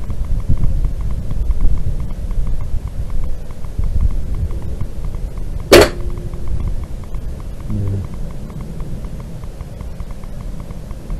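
An air rifle fires a pellet with one sharp, sudden crack midway through, standing out over a steady low rumble of background noise.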